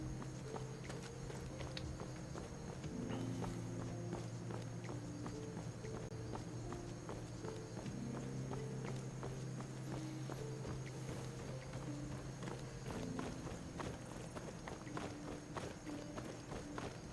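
Horse hooves clip-clop in Skyrim, a steady galloping rhythm running the whole way through with no voices, while sustained music notes play underneath.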